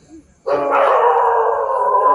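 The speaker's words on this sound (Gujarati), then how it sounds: "કૂતરાઓ કેમ આટલા બધા ચિલ્લાય છે" A dog near a rescued crocodile under a bridge lets out a loud, sustained howl close by after a brief quiet moment, the single long note holding steady to the end.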